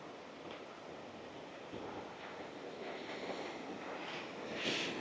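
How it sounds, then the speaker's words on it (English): Ocean waves washing against the rocky shore near Callao Salvaje, a continuous soft surf wash with wind rumbling across the microphone, swelling slightly toward the end. "so you can hear the waves now, I think"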